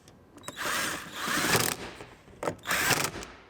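Power driver whirring in short bursts while screwing a grab handle into a 2019 Sierra Denali HD pickup interior, two main runs with brief pauses, close by.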